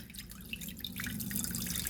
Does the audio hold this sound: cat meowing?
no